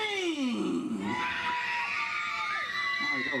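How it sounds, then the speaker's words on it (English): A magic show audience screams on cue, many overlapping high-pitched voices rising and falling together in a loud, sustained wave of shrieks and yells. "I want to hear you scream."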